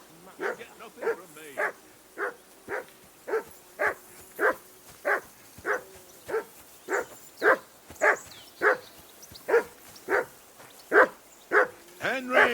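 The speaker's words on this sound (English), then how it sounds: "Whistle at that mutt of yours to stop barking!" A dog in the medieval game Kingdom Come: Deliverance II barks steadily and repeatedly, about twenty evenly spaced loud barks close by, with no pause across the whole stretch.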